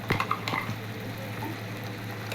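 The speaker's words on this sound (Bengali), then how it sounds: "মশলাটা পুরো তেলের মধ্যে দিয়ে দিচ্ছি।" Whole cumin, chilli, garlic and onion frying in hot oil, giving a steady close sizzle with scattered crackles and light spoon clinks.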